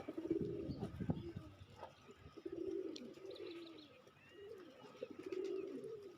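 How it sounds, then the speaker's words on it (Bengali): A feral pigeon in a town coos in low repeated rolling phrases, close and clear, with faint chirps from other birds behind it and no talking. "ওই যে ওই একটা কবুতর"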